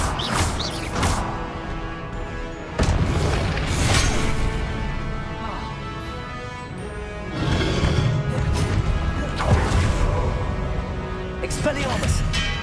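Confringo blasting spell explosions in Hogwarts Legacy on hard difficulty, mixed into busy combat with crashes, whooshes and impacts, loud and dense throughout.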